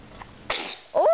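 A single sharp sneeze from a child, a quick intake followed by a loud burst, then a brief voiced sound right after.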